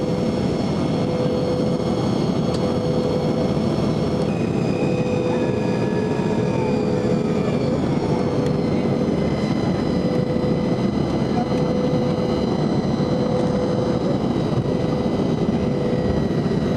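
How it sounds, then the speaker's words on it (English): Steady roar of an airliner cabin during descent into San Juan, Puerto Rico, a loud continuous engine drone with faint higher whines, no talk over it. "We're just coming in for a landing."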